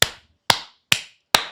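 Four sharp, evenly spaced claps ring out close and crisp, each a single hard smack with a short decaying tail, separated by clear silence.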